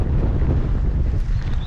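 Wind rushes over the microphone as a bike rider heads straight into it, a steady, loud, low buffeting roar that continues unbroken.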